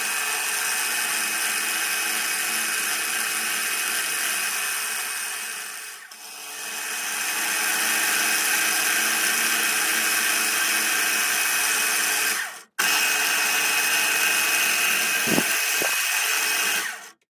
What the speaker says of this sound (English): the next step will be to drill the two holes in what will be the Conrod